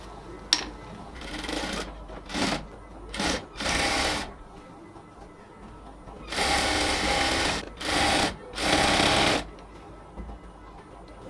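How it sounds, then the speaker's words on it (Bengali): A sewing machine stitches a cotton salwar, its motor whirring in several separate bursts of varying length with short pauses between them, fairly close and with no voices. "মেজারমেন্ট অনুযায়ী সালোয়ারটাকে কমপ্লিটলি সেলাই করে ফেলব"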